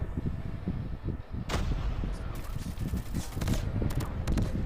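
Gunfire in the mobile shooter Call of Duty Mobile, with a Kilo 141 rifle in play: repeated sharp shots and heavier booming blasts crackle through a dense, continuous wash of battle noise, loud and busy throughout.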